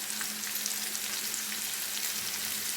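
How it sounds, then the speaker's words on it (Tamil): Onions sautéing in oil in a pan with salt added, a soft continuous sizzle and light frying crackle throughout, fairly quiet and with no talk. "வெங்காயம் நல்லா வதங்கணும்."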